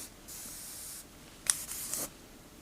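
Short, soft hissing bursts of an airbrush spraying paint along a crease on a Joker figure, one longer pass followed by a couple of quick puffs, close and quiet.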